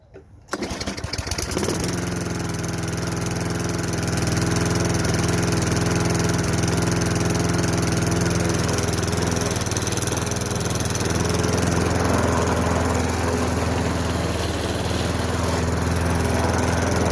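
Craftsman riding lawn mower with a Tecumseh 5.5 engine catches after a brief pull and settles into a loud, steady running drone that continues unbroken to the end, close by.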